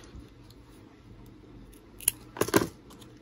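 Scissors snip through laminated material being shaped into a bow: one crisp cut, then a quick cluster of close, loud snips near the end, with no talking.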